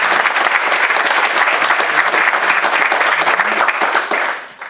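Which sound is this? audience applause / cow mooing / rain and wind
audience applause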